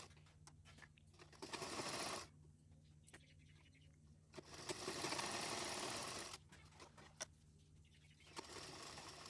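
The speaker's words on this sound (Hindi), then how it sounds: "और ऐसे एक सिलाई भी देकर कपड़े को पीछे की तरफ ले लेंगे और यहाँ से भी एक फिनिशिंग की सिलाई भी दे देंगे।" A sewing machine stitching blouse fabric while a sleeve is attached, running in three steady whirring bursts with quieter handling and fabric shifting between them, close up and without voices.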